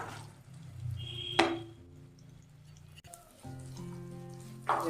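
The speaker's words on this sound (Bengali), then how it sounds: "এবার এর মধ্যে রসুন কুচি দেব। রসুন কুচি দিলাম।" Minced garlic sizzles in melted butter in a hot pan, a soft steady hiss with a few brief crackling bursts as the garlic goes in and gets stirred.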